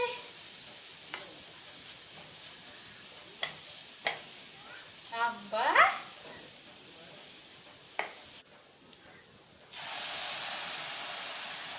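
Grated carrot being stirred and roasted in ghee for carrot payasam, with scattered stirring scrapes and soft crackle, a brief sizzling burst midway, then a steady hiss near the end.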